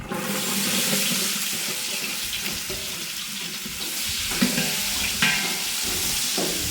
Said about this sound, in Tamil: வெங்காயத்தை சேர்த்து போகிறேன் வெங்காயத்தை சேர்த்துக்கிறேன்